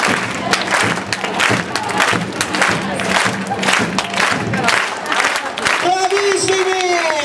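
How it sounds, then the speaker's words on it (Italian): An audience at a summer camp end-of-season show claps hands in rhythmic time, a steady beat of many hands mixed with crowd cheering and voices, ending with a shouted voice over the crowd. "mi hanno insegnato che si possono battere le mani anche a tempo"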